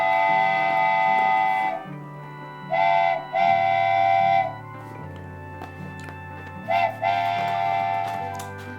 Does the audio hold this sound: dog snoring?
no